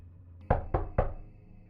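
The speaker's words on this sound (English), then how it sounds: "I was startled awake by a knock at the door and then the sound of the letterbox opening." Three firm knocks on a door, evenly spaced and close, break a quiet room; no voices.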